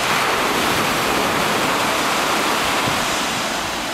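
Ocean waves at Salinas beach, Ecuador, make a dense, constant roar of surf that stays broad and loud for the whole stretch, with no voices over it.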